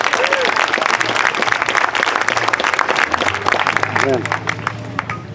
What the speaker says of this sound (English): Please give a nice warm hand again, once again, for the Bedford High School Madrigal Singers.